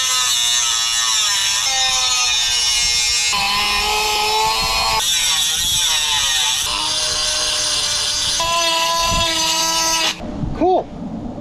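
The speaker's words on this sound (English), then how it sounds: "I'm gonna go through with the grinder and clean it all up" Angle grinder cleaning up rough edges on a metal Ford Bronco bumper, a loud, close, continuous buzzing whine with shifting pitch as the disc bites, cutting off near the end.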